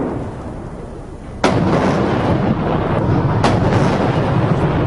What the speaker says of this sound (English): A 70-gun salute in Tiananmen Square to mark the end of the war with Japan